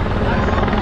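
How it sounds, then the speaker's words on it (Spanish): Several helicopters hovering and circling high above a Tour de France roadside climb, a steady low rotor drone filling the short moment without clear speech. "Ahí arriba, cinco helicópteros hay. Cuatro volando uno detrás de otro."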